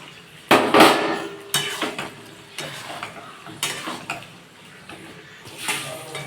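Egg and potato curry with mustard paste being sautéed in a pan, with loud metal spatula clanks and scrapes against the pan in irregular bursts over a soft sizzle, close by, without talking.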